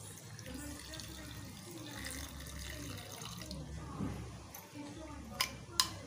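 Water runs steadily into a pot of jaggery with a low, continuous splashing hiss, followed by a couple of sharp clinks near the end.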